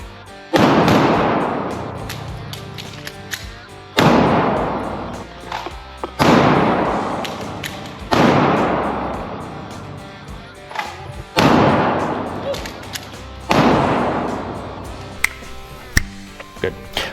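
A Ruger RXM pistol fired at a shooting range: about seven loud, sharp shots spaced roughly two seconds apart, each ringing out in a decaying echo, with a few softer clicks and knocks between them.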